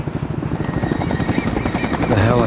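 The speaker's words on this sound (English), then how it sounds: "The helicopter. I remember." Rapid rotor thumping of a helicopter fills the clip, loud and close, with game-style effects layered over it, from the video game XIII.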